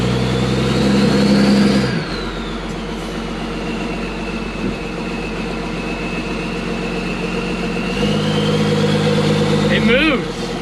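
A 12 valve Cummins diesel truck engine revs up loudly, drops back to a rough idle, then revs again near the end, with a whining pitch rising and falling.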